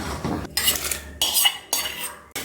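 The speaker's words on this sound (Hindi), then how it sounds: "अब हम इसमें दाल डालेंगे।" Soaked lentils are tipped into a pressure cooker of boiling water, giving a few bursts of metallic clatter, scraping and pouring with short pauses between them.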